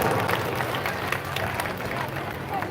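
An audience applauds at a Buddha Purnima festival gathering, dense, sustained clapping from a crowd filling the whole stretch, with a voice faintly underneath.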